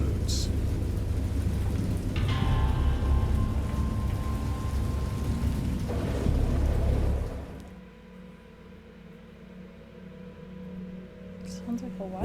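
Steady heavy rain with low rumbling thunder rolls through a wild storm, loud and continuous, then drops away to a quieter, hollow hum with faint distant rumbles near the end.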